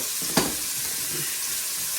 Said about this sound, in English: can you hear that sizzle now?